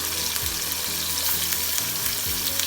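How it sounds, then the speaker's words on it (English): Fish frying in a pan at home, a steady close sizzle and crackle of hot oil with occasional stirring or scraping, no talk. "And frying some fish."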